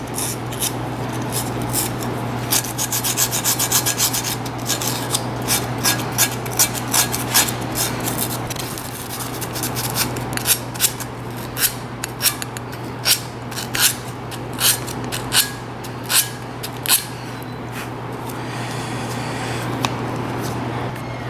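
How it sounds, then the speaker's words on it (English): Sandpaper scrubbing the contact surface of a Mercedes-Benz front brake pad, a dry rhythmic rasping in repeated strokes, close up over a steady low hum. "I'm just going to use a little bit of sandpaper and cleaning"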